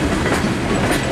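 A CSX freight train of ethanol tank cars rolls along a connector track with a steady, loud rumble and rhythmic clickety-clack of wheels, no voices.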